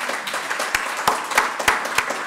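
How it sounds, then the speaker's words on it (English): A conference audience claps for a group of twelve volunteers: moderately loud, scattered applause with several sharp, prominent claps standing out over a continuous patter. "can I just get another round of applause for the 12?"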